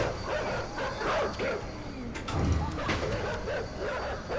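Dogs bark and yip in a video game, a series of short barks and whimpers scattered across a few seconds, moderately loud over faint game background noise.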